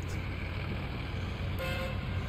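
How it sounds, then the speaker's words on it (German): Truck horn honking in the SnowRunner video game: a brief, fairly loud horn toot partway through, over a steady engine drone with no talking. "Ach, die schreckhafte Hupe,"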